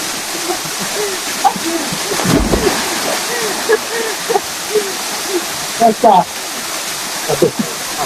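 Water flowing from the Tibu Giong waterfall toward the river, a steady broad rush close by, with people talking and calling out over it and a few splashes.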